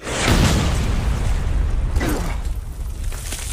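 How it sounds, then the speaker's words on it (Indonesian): A big explosion sound effect in a war story about the Battle of Passchendaele: a loud, deep boom that swells at once and rumbles on with a dense, roaring tail before slowly easing. "sebuah ledakan besar terjadi"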